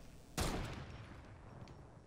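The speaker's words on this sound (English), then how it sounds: "That shot didn't even touch him." A single gunshot in Fortnite, a video game, opens with a sharp, bright crack and then a faint rumbling tail that fades out, with nothing else around it.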